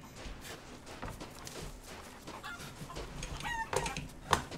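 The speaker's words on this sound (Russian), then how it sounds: "Куры." Chickens clucking and a rooster crowing in the Resident Evil Village video game, a cluster of fowl calls overlapping amid background game ambience, with sharper clucks toward the end.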